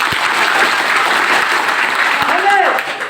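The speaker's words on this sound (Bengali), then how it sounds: "আরেকটা করতালি।" Seminar audience claps in a steady, dense burst of applause that continues throughout, with a speaker's voice briefly audible over it near the end.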